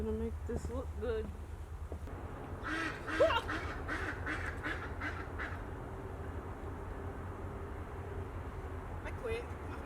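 Several ducks quack in short bursts in the middle, under steady background noise, with a few faint voices nearby.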